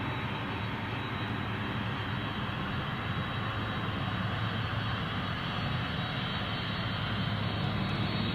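A FedEx cargo jet arriving from San Diego at Memphis, the busy cargo hub, gives off a continuous broadband engine roar that holds steady and fairly loud throughout, with no voices.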